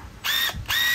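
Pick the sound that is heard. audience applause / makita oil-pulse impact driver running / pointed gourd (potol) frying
makita oil-pulse impact driver running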